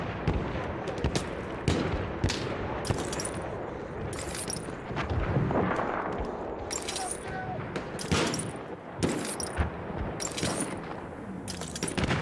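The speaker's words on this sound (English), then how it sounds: "How can they be shooting through walls?" Gunfire in a World War 1 video game, a string of sharp, loud shots with irregular spacing, some close together in bursts, over a rumbling battlefield background.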